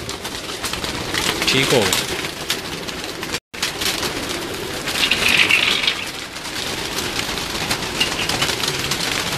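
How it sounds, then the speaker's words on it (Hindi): Flying pigeons on a rooftop loft coo and flutter amid a busy outdoor hiss, with someone speaking briefly over them. "ये जी परवाजी कबूतर हैं"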